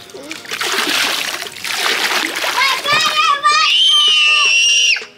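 Water poured and dumped over a child during outdoor play, bursts of splashing and sloshing mixed with excited children's voices and a final high-pitched scream.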